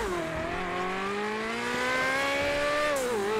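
A Ferrari 458 Italia Spider in GTA 5 winds up through its revs, the engine note climbing steadily and dipping briefly near the end. The sound is loud and close, with a faint tire squeal and no talk.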